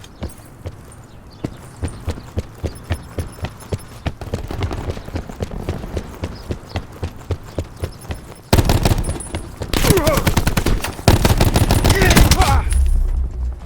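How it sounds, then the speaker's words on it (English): Gunfire in a video game: a steady run of evenly spaced shots, then a louder, denser burst of shooting near the end, with no voices. "That gun shoots really slow."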